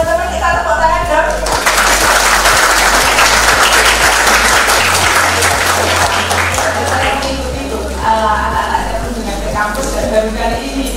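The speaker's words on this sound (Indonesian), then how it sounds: "Teman-teman kita tepuk tangan dong." Audience applause at a school visit event at a university vocational school, a loud sustained round of clapping with crowd noise and a rhythmic low thumping beneath, fading slightly toward the end.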